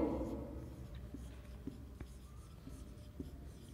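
Pen or pencil scratching on paper while vegetable names are written down in a classroom activity, soft irregular strokes and taps close by in a quiet room.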